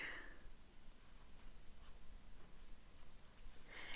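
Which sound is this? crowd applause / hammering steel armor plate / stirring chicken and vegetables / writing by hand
writing by hand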